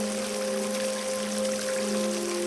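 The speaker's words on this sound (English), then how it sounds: "This small water stream in the wild were our only source of water." A small mountain stream in the wild flows and pours steadily nearby, a constant bright watery rush with no voices.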